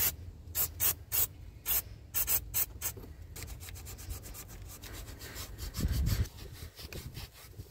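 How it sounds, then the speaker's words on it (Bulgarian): Scraping and rubbing clean the gasket seating surface of an EGR valve on a cheap used car: about a dozen quick, close strokes in a rhythmic burst, then a steadier continuous scrubbing with a brief heavier scrape near the end. "Първата ни стъпка ще бъде да почистим повърхността, на която седи гарнитурата"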